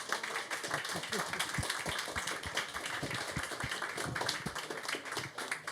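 Steady clapping from an audience after an interview at the Annecy 2025 animation festival, a dense patter of many hands, with voices mixed in underneath.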